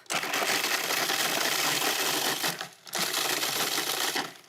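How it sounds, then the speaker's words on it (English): Food processor pulsing graham cracker cookies into fine crumbs: two loud, close grinding bursts of rattling blades and tumbling crumbs, separated by a brief pause. "And I'm just gonna pulse these, though, into nice fine crumbs."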